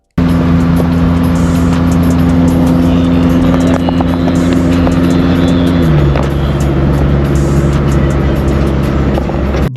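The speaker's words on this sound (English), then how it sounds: "it's like it has a straight down pipe from the manifold all the way to the back of the vehicle, literally sounding like a Subaru and it's a van" A van with a straight-pipe exhaust running from the manifold to the rear, a loud continuous droning engine rumble heard up close that drops to a lower pitch partway through and stays steady.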